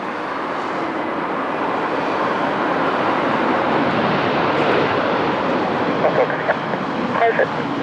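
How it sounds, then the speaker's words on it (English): A Ryanair Boeing 737 MAX 8 on short final approach to runway 20, a steady broadband jet roar holding level throughout, with faint tower radio chatter underneath. "737 MAX 8 of Ryanair on short final"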